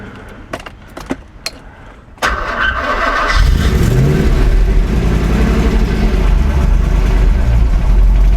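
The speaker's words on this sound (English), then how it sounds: "It does need its idling sorting out, to be honest" A Ram 1500 Rebel pickup truck engine cranks and starts after a few clicks, then runs with a steady, loud rumble that hunts slightly rather than settling into a smooth idle, a rough-idle fault.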